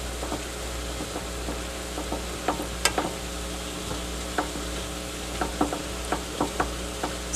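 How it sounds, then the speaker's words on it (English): Sauce with several grated cheeses, Parmesan among them, stirred in a pan on the stove, a quiet steady sizzle broken by repeated soft scraping and stirring strokes, near, with no talking. "Stir it up."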